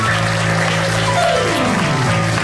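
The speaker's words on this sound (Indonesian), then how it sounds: "Kita kasih tepuk tangan dulu untuk Zeda Salim" A TV comedy studio audience applauds, a steady wash of clapping running under a held musical tone and sliding sounds for a couple of seconds.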